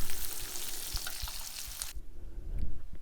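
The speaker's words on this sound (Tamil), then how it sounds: "கத்திரிக்காயையும் 2லேருந்து 3 நிமிஷத்துக்கு ஸ்லோ ஃப்ளேமில் வதக்கிக்கோங்க" Eggplant sautéing in oil over a slow flame, a dense bright sizzle with light stirring knocks that suddenly drops to a quieter simmer partway through.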